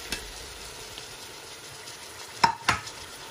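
Green chilies and tomatoes frying in a pot for chicken biryani are stirred, giving a soft steady sizzle with two sharp clanks of the spoon against the pot near the end.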